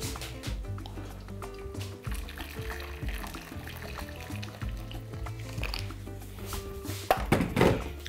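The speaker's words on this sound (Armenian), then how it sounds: "լցնում ենք եռացրած ջուր" Boiled water poured into a pot for cooking green beans, a faint steady splashing and trickling with a few soft thunks of the pot near the end.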